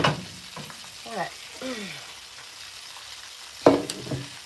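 Chicken pieces frying in hot oil for crispy chicken, with a steady bright sizzle and a few louder bursts as pieces are stirred, under a voice talking.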